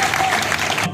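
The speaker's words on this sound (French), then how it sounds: "Je vous invite à saluer chaleureusement par vos applaudissements notre hôte de marque" Warm crowd applause for a guest of honour at the inauguration of border infrastructure at Ruzizi in Bukavu, South Kivu, a brief dense burst of many hands clapping that cuts off sharply at the end.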